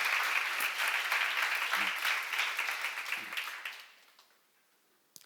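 A congregation at a church seminar breaks into full applause, loud and dense, holding for about four seconds before fading away to near silence with a brief sound at the end.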